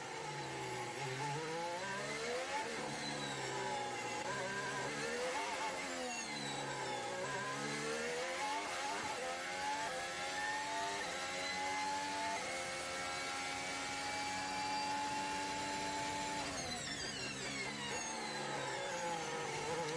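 Formula 1 cars at the Monaco Grand Prix qualifying, engines howling continuously as they rise and fall in pitch through gear changes, loud and sustained, with one car rising steadily before a sharp drop.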